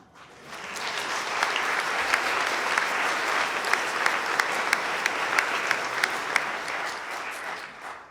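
A crowd at a town hall meeting on a county data center breaks into sustained, loud applause, swelling quickly and holding steady with sharp individual claps standing out.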